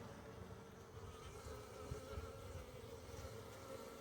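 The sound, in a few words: bees flying around a beehive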